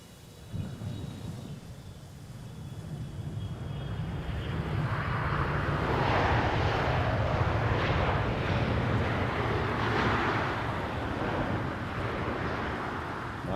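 Airliner landing in gusty wind at Schiphol Amsterdam Airport, a distant roar swelling into a loud sustained rumble of engines and touchdown that slowly fades, under open-air wind noise.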